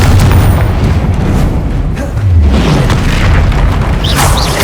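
Confringo fire spell explosion in the game Hogwarts Legacy, loud booming blasts with a deep rumbling roar that rolls on for several seconds, followed by whooshing magical effects.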